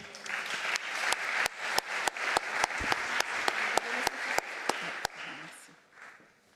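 At an awards ceremony for a women's cybersecurity researcher trophy, an audience applauds the winner, sharp rhythmic claps standing out over dense clapping that fades out near the end.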